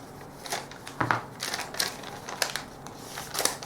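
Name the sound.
cutting out a paper pattern piece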